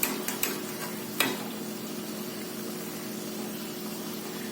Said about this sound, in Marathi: मध्यम गॅसवरती हे छान तळून घ्यायचं